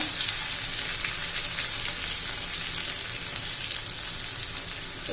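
Onion goes into hot oil with curry leaves and urad and chana dal, giving a loud, dense, steady crackling sizzle with no voices.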